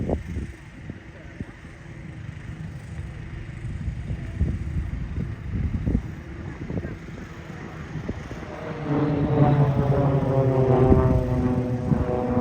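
An aerobatic propeller plane tumbles overhead at an airshow, its engine droning and surging, growing louder and more tonal toward the end, with a commentator's voice talking over it throughout.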